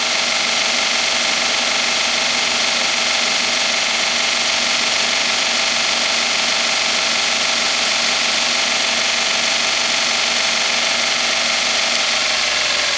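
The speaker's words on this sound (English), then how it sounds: "So if you push quite hard on the wire wheel, it'll actually take the top edge off of that thread." A wire wheel spins against the thread of a bolt removed from a Ford XC panel van after a vinegar soak, giving a continuous loud, even whirring buzz with a dense bristly hiss that holds steady throughout.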